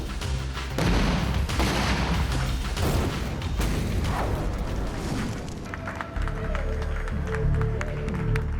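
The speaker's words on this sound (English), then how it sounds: "We're hoping to get about a 20-foot fireball out of the top." A pyrotechnic fireball erupts on a movie set, an abrupt loud whoosh and roar followed by sustained crackling, rumbling bursts that keep going to the end, with no speech heard.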